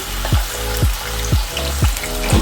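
Masala for a chole curry frying on a low flame, a continuous close sizzle broken by regular scraping strokes of a spoon about every half second, with a low steady hum underneath.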